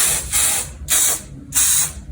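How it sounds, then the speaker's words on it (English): A makeup setting spray mists onto a face in three quick, close hissing bursts, evenly spaced and fairly loud, with no talking. "I'm going to go ahead and spray my face with this."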